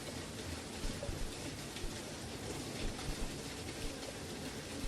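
Rain falling onto the water of a pool, a steady, dense patter of drops that stays even throughout, fairly soft and without voices.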